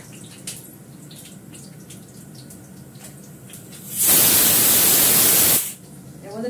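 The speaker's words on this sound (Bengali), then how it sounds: "কালো জিরে ফোড়ন দিলাম।" Nigella seeds are dropped into hot oil in a home kitchen, where dried red chilli has just been fried, and they burst into a loud, hissing sizzle that holds for about a second and a half before cutting off.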